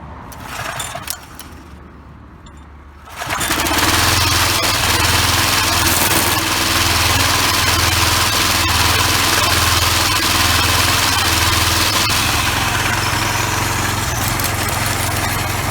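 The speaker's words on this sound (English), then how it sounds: "I'm gonna fire it up, show y'all it's good to go." Troy-Bilt push string trimmer with a freshly gapped spark plug: after a few seconds of handling noise, the small engine catches and settles into a loud, steady buzzing run close by, without speech.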